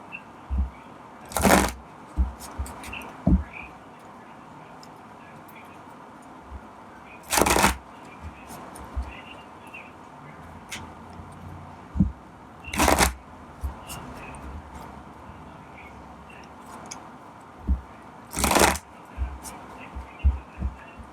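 Oracle advice cards are shuffled in short, crisp riffling bursts that recur every few seconds, with quieter rustles and taps in between.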